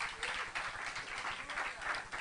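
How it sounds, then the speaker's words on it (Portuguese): Steady applause from a large church congregation, a dense patter of many hands clapping at once, heard from some distance and fairly quiet. "Quem pode aplaudir ao Senhor por isso?"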